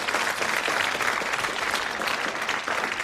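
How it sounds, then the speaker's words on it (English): A studio audience at the 1980s game show Blockbusters applauds steadily, a dense wash of clapping that holds at an even level from start to finish with no talk over it. "Give him a round of applause."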